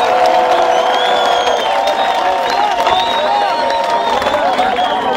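An outdoor crowd at a political gathering applauds and cheers for the head of state, dense clapping mixed with whoops and shouts, while a loud voice carries over the noise.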